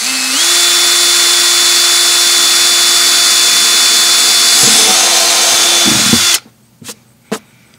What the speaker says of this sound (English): you're going to want to also drill the other side, roughly the same height.